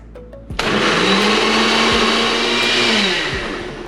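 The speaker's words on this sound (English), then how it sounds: "Blend it well, and it's the same process." A countertop blender whirring through plant-based milk starts abruptly after a brief click, holding a loud, steady high-pitched motor roar close by for about three seconds before easing off slightly, with no talking.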